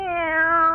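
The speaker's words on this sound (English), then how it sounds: "Now, you be a good kitty, Minerva." A single drawn-out meow from Minerva the cat, a radio comedy sound effect, close and clear with a steady pitch that rises slightly as it goes.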